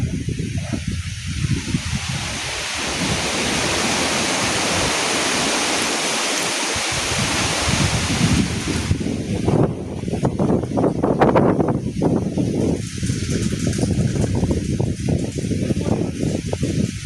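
Strong wind rushes across an open outdoor spot, a steady broadband roar with gusty swells and buffeting on the microphone that continue throughout, with no voices.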